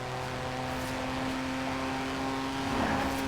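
A race car engine in a video game drones steadily throughout at a moderate level, with a sustained mechanical whine and no talk over it.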